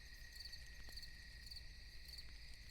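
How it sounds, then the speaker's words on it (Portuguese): A night chorus of crickets with some frogs, a constant high chirping trill with rhythmic pulses over a soft background, no voices. "o som dos grilos e sapos se misturava ao riso solto"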